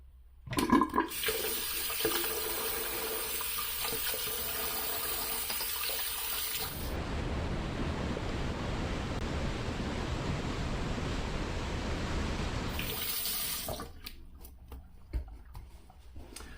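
A tap runs water to rinse off shaving soap, a steady, loud rush lasting several seconds, with clinks and handling noises before it starts and after it stops.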